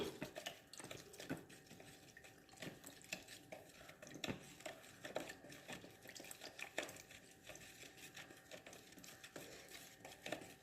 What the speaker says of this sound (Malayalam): ഒരു കൊള്ളിയായിട്ട് ഇളക്കി കൊടുക്കാം ഉപ്പൊന്ന് നല്ലോണം കലങ്ങി കിട്ടണം